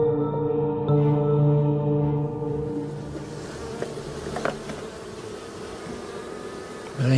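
A strong honeybee colony hums in a loud, steady drone of many bees close by, with layered buzzing tones holding throughout and a few brief louder passes near the hive.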